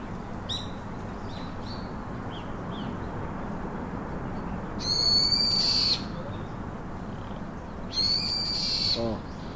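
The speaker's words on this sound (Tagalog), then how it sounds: "Uni ng ibon." Birds call in two loud bursts of bright, repeated notes, with a few scattered chirps earlier, over a steady low outdoor rumble.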